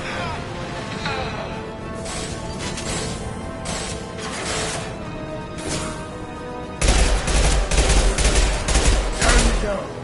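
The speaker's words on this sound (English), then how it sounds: "Firing an impact shot!" Combat gunfire in Mass Effect 2 with an impact shot, steady battle noise that jumps into a louder burst of rapid shots and crashes near the end.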